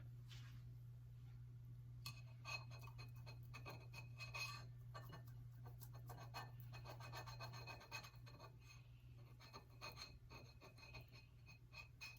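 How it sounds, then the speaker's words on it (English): Chilled boiled eggs are rubbed against a small handheld mini grater in a kitchen, making a steady, quiet rasping scrape that continues throughout over a low background hum, with no talk. "I'm going to go ahead and grate all of these 4 eggs with a mini grater that I have, the handheld grater"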